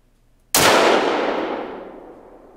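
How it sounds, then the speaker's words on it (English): A single loud rifle shot in theHunter: Call of the Wild, a sharp sudden crack that rolls away into a long fading echo over a couple of seconds, with nothing else heard. "I'll pop a scope on it and try and shoot this big bugger"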